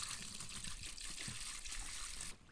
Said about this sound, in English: first I will add my cold water that I have straight from my water